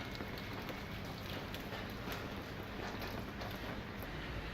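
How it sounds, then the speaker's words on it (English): Rain falls steadily on a rooftop, a dense continuous hiss and patter with occasional sharper drops, close and even throughout. "I'm waiting out the rain right now"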